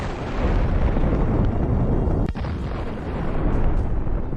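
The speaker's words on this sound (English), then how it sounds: "The hit of the kamikaze drone caused an impressive explosion." A kamikaze FPV drone strikes an armored vehicle hidden behind a forest belt, setting off a loud, sustained explosive roar that rumbles on with a sharp crack partway through, heard without talking.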